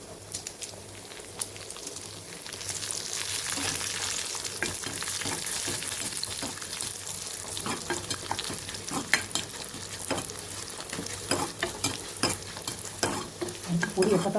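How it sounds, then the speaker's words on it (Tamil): Two cut dried red chillies fry in oil for a village-style sambar with a continuous, fairly loud sizzle, broken by spoon scrapes and stirring knocks. "ரெண்டு வரமிளகாங்க கட் பண்ணி போட்டுக்கலாம்."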